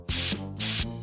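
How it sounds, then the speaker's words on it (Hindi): Garlic spray hisses out of a spray bottle in two short, sharp bursts, with a steady tone playing underneath. "Garlic spray."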